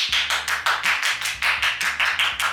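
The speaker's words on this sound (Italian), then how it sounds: "Mezz'ora d'applauso" A few people clap in quick, rhythmic bursts close by during a cake tasting, bright and loud over a low background hum.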